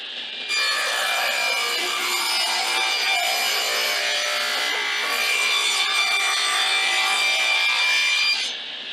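A handsaw cuts a decorative curve into a wooden painting-frame piece, making continuous raspy back-and-forth strokes, steady and close, for about eight seconds with no talking.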